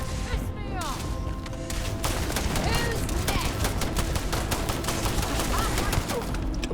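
Rapid, dense bursts of gunshots in the Starfield space game, a sustained crackling volley of closely spaced shots running steadily throughout, loud and near, with occasional voices mixed in.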